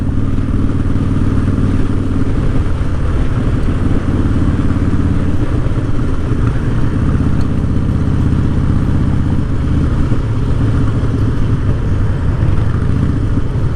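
A motorcycle engine idling and rumbling loudly while the bike sits still in traffic, a constant deep throbbing drone with mechanical clatter, close and unbroken throughout.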